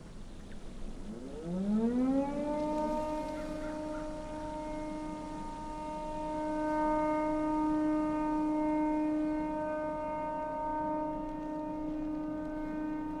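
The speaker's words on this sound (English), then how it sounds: "I hate sirens like that." A civil-defense-style siren in the horror video game Don't Scream, rising in pitch from a low start and then holding a long, steady wail with strong harmonics over a dark ambient hum, alone and moderately loud.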